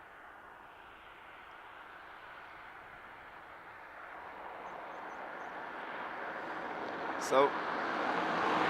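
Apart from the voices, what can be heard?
Airbus A320neo airliner of SAS at Dublin Airport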